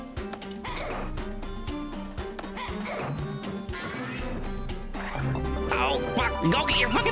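A dog barks and yips in the Tomba! 2 video game, several quick bow-wow calls among game sounds while a player talks over them.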